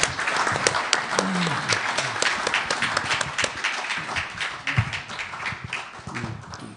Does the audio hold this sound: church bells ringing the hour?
no